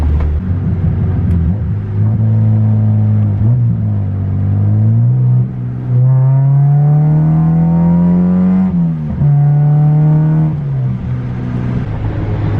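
Turbocharged Honda VTEC engine accelerating through gears, loud and close, rising pitch with clear gear-shift drops around the middle and near the end, without the sharp VTEC crossover; no talking.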